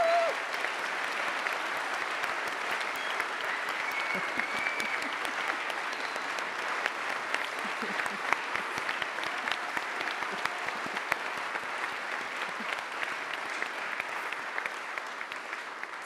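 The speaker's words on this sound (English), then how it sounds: "I think a round of applause for our consultants." Sustained applause from an awards ceremony audience honouring the consultants, many hands clapping in a thick, continuous patter that holds steady and loud for the whole stretch.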